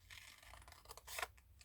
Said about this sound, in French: et on découpe tout autour